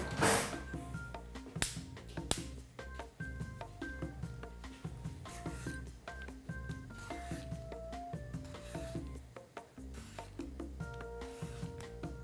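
An eggplant is peeled with repeated short scraping and rasping strokes in an irregular rhythm, close and fairly quiet, with faint clicks and light kitchen clatter between strokes.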